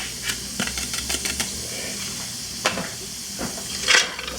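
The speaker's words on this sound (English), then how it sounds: "So I am going to whisk that in." Whisking a roux of pancetta oil and flour in a pan for vodka sauce: soft quiet scraping and tapping of a whisk with faint sizzle, a few brief clicks, close and low in level.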